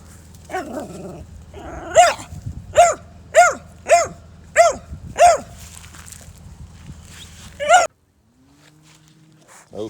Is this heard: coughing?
no